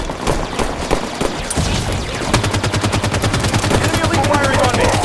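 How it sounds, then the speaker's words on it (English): Rapid automatic gunfire from an enemy Elite in the Halo 5 video game, loud, close bursts that build into a sustained stream of shots amid battle noise. "Enemy elite firing on me."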